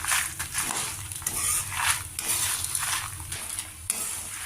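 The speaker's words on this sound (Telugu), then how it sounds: "మిరపకాయలు కూడా కొద్దిగా వేయించుకుంటే" Close, dense crackling and sizzling of dry red chillies and tempering spices frying, with a spoon scraping and stirring against the pan in irregular bursts.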